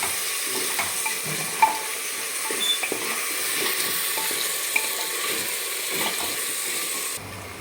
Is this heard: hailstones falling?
no